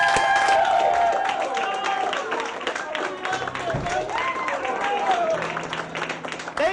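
An audience gives warm applause welcoming George at a Boys and Girls Club renovation reveal, sustained clapping and crowd noise with talk and cheers mixed in.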